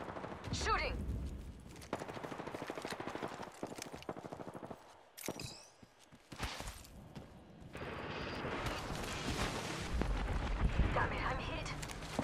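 Rapid video-game gunfire bursts and explosive blasts crackle through a busy match, loud and dense, with short pauses, under a player's voice.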